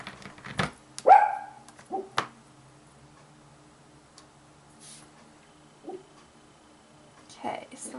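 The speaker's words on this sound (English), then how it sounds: "Excuse my dog." Dog barking indoors at a craft table while Christmas cards are made: a few sharp, separate barks spread through quiet moments, with light tapping and handling noises between them.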